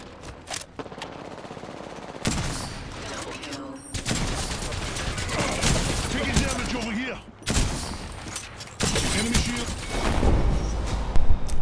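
Automatic gunfire in Apex Legends rattles in long, loud bursts broken by short pauses, with clanks and impacts mixed in and game voices heard faintly now and then.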